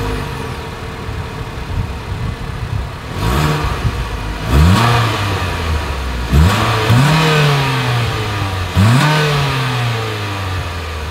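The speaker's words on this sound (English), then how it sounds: "As always, here is that exhaust clip." A 2024 Mitsubishi Outlander Sport exhaust revs four times in sharp bursts, each rising quickly then settling back to a steady low idle between pulls, close and loud.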